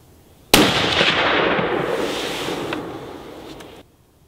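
A single gunshot fired at a target on a range cracks sharply once, then a broad, fading echo rolls on for about three seconds before cutting off, with no talk.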